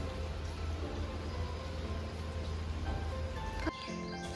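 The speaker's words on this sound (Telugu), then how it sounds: "కొంచెం వర్షం పడుతుంది" Light rain falls steadily around a home garden with bitter gourd plants, a soft continuous patter and hiss under a low hum, ending in an abrupt cut.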